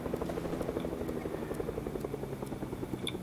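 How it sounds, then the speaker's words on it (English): Helicopter rotor in the Fortnite video game: a steady, fast beating chop with a low engine drone, continuous and fairly close throughout, with no talk over it. "There's another chopper."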